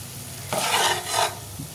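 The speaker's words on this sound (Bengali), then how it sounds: "ভালো করে আমি নেড়ে দেবো।" Cooked rice for hilsa pulao stirred in a pan, two close, loud bursts of scraping and rustling separated by a short pause, over a low background hum.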